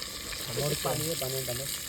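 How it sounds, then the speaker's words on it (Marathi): Chicken frying in a pan at a village party, a soft continuous sizzle heard under short bursts of nearby talk. "फ्राय साठी टाकलं"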